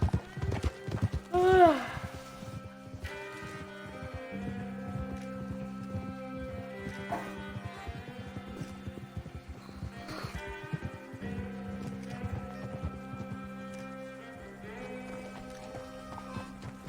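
Horse hooves clip-clopping at a steady riding pace in the video game Red Dead Redemption 2, with a brief whinny near the start and background game music throughout.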